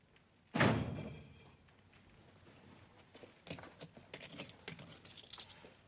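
Indoors in a Western film, a door shuts with one sharp thunk, followed by faint shuffling and a string of light clicks and knocks.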